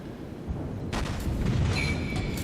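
Enemy ship gunfire aimed at a destroyer in the naval game World of Warships: a low rumble of distant booms, then a sharper cluster of shots, with a whistling tone near the end.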